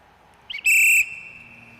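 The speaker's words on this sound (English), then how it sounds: "Track set, starter blew the whistle" A starter's whistle at a short track speed skating race gives one strong, loud steady blast of about a third of a second, preceded by a brief softer chirp, with faint arena ambience.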